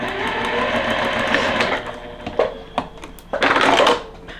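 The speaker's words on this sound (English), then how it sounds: "we're going to sew in on the line in between the 1 and the 3" A sewing machine sews along a marked line on a quilt block, with a close steady whir that slows and breaks into a few clicks before a final short burst of stitching.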